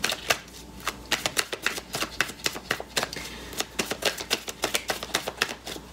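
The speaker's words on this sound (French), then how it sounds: "je vais juste neutraliser un petit peu les cartes ici." Tarot cards shuffled by hand in a quick, crisp run of riffling flicks and soft slaps, close and steady, with no voice over it.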